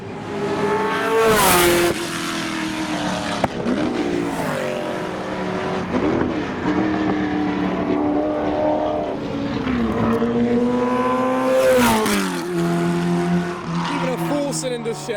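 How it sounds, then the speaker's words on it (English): Race cars on a track day, including a GT40, roar past one after another with engines rising and falling in pitch, loud and continuous, with someone speaking over them. "Oh, here comes the Cigaris and the GT40."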